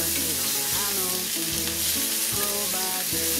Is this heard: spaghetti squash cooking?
yes